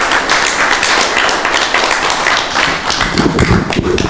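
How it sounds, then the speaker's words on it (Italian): Audience applause for Mr. Faustino Gatto during an annual meeting with local authorities: dense, steady crowd clapping fills the whole stretch, with a few low voices near the end. "Chiedo un applauso per il signor Faustino Gatto."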